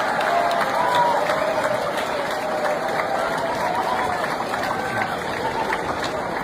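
Second- and third-year college students give loud, sustained applause to welcome first-year freshers in a hall, a dense steady clatter of many hands with light crowd murmur throughout.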